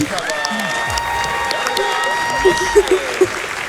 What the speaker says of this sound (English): Can we get a round of applause for Nicole?